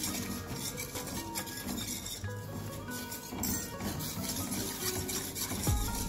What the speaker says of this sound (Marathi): आता व्यवस्थित मिक्स करून घेते परत।